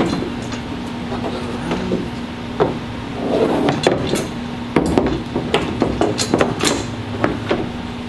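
Loosened roof rack supports on an EZGO golf cart rattle and clank with irregular sharp metallic knocks over a steady low hum, close by.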